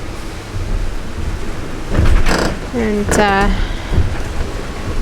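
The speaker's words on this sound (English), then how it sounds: "quite a bit of rain." Steady rain and wind hiss on a sailboat sailing upwind under staysail, under a brief spoken word, with a few louder bursts cutting through the constant wash of noise.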